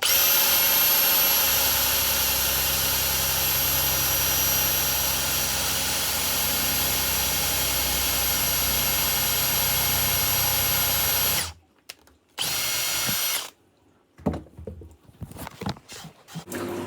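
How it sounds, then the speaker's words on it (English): A power drill runs continuously and loudly for about eleven seconds with a steady whining motor drone, then stops and restarts in short bursts with pauses in between while holes are drilled for a dried flower arrangement. "don't want to be drilling in reverse."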